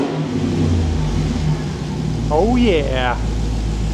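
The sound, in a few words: built supercharged 426 engine revving with red eye intake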